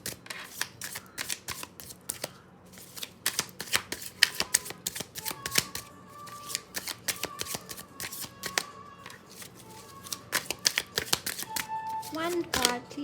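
Tarot cards being shuffled close by in a long run of rapid crisp riffling flicks and slaps, steady throughout with brief pauses, a faint voice in the background.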